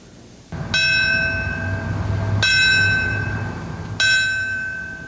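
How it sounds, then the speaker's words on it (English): The New York Fire Department bell rung at the World Trade Center site in memorial of fallen firefighters: three loud, clear metallic strikes about one and a half seconds apart, each ringing on in a long sustained tone. "They rang the New York Fire Department bell to honor the 343 firefighters killed on September 11th."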